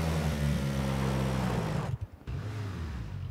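Buggy engine in the battle-royale game PUBG, a steady revving motor drone that cuts out briefly near the end before resuming, heard alone without talk.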